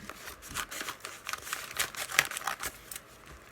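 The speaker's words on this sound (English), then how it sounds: "I'm going to use my trusty pink scissors to cut open it." Trusty pink scissors snip through a plastic mailer bag in a series of close, crisp cuts mixed with light crinkling of the plastic.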